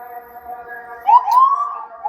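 An ambulance siren near a beach wails at a distance, its tone sliding upward and holding, fairly faint and alone.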